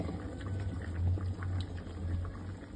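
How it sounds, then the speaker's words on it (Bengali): Mustard oil poured into a pan of sorshe ilish gives a steady, close sizzle and bubbling with a low hum beneath, continuous for a few seconds. "এখন সরষের তেল দিব"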